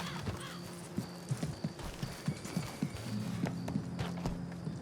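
Horse hooves in a video game clip-clop in a steady, close, evenly spaced rhythm, with a neigh or whinny and an ambient game soundscape underneath.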